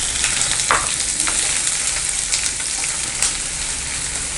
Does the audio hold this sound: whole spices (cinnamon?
yes